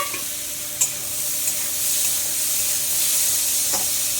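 Soaked lentils sizzle in hot oil in a pan, a steady close hiss of frying with a few sharp clicks from stirring, and no talking.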